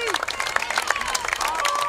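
A football crowd at a high school game in South Bend stands and cheers, a dense burst of applause and shouts with scattered whistles.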